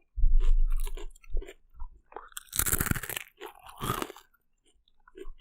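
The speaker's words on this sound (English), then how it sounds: "So, last ASMR crunch for right now." Crunchy bites recorded close to the mic for ASMR: several separate loud crunches and chewing bursts spaced over a few seconds, the biggest two crackling bites in the middle, with quiet gaps between.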